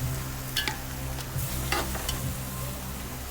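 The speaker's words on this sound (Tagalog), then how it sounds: "ilalagay ko na rin yung pait pagka gisa-gisa ko ng onte" Pork innards and bitter bile stir-frying in a pan with calamansi, giving a soft, steady sizzle with a few scraping stirs, close and fairly quiet, no voices.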